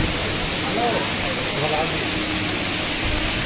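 Rushing water from the Deogarh waterfall fills the air with a loud, constant broadband roar, while people's voices are faintly heard beneath it.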